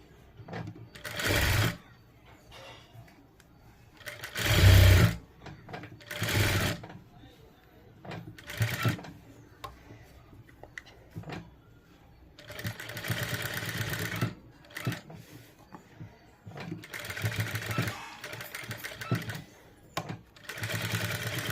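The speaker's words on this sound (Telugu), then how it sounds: "ఇలా ఇలా స్టిచ్ చేసేసుకోవడమే" A sewing machine stitches fabric lining in short bursts of rapid mechanical whirring, separated by pauses in which a person speaks.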